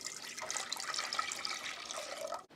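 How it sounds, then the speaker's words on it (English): Milk is poured into a kettle on a stovetop, a faint, steady splashing liquid stream that runs for a couple of seconds before cutting off abruptly. "pouring the milk in the kettle."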